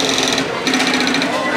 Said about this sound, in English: they take it over to the sewing machine where the hurricane material is then sewn onto the silver stuff